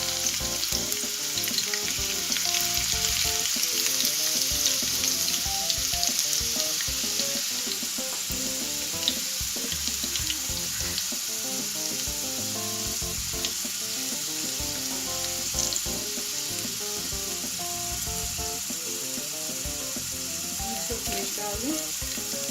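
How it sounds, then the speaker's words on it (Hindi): Garlic sizzles in hot oil in a pan while masoor dal and rice are being cooked. A steady, crackling frying hiss carries throughout, with occasional stirring clinks. "ये देखें ऑयल गर्म हो गया, इसमें लहसुन डाल देंगे।"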